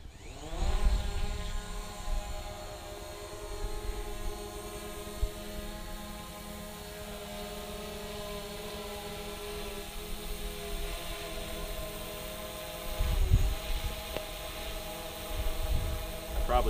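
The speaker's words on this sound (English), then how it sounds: "I'm going to fire up the Mavic Pro, fly into the woods just for a little bit" A DJI Mavic Pro drone flying in woods, its steady high-pitched whine continuous and close throughout, with slight swells in loudness as it moves.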